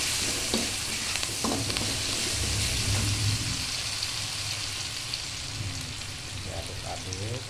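Oseng buah picung fries in a pan with a steady, close sizzle, broken by soft scraping and clattering as a spatula stirs it now and then.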